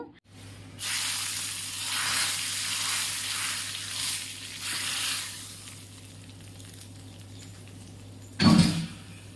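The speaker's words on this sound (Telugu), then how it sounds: "పోపు కోసం వచ్చేసి ఆవాలు జీలకర్ర ఆ తర్వాత వచ్చేసి ఎర్రగడ్డ తెల్లగడ్డ కొద్దిగా ఎండుమిరపకాయలు కూడా వేసానండి" Mustard seeds, cumin, onion, garlic and dried red chillies sizzle in hot oil for a tempering, a steady close hiss that swells and eases over several seconds, then fades before a short clatter near the end.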